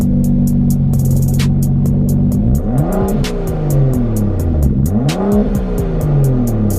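A loud BMW 435i N55 engine with its muffler deleted idles roughly, then revs up sharply twice with rising and falling pitch, harsh and unmuffled, with rapid popping clicks running throughout.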